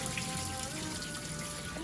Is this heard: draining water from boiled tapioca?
yes